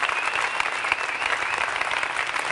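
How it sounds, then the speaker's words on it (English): An audience at an iPad keynote presentation applauds, heard as played-back footage: dense, sustained clapping from a large crowd, steady and moderately loud throughout. "There's applause."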